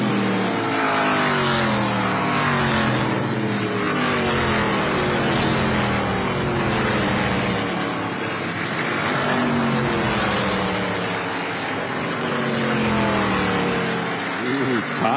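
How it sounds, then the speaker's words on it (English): ARCA Menards Series West stock cars race at Evergreen, the number 13 car among them, with engines roaring and revving steadily throughout as several cars pass close by. A commentator talks over the continuous engine noise. "Todd Souza coming to life in that number 13 car"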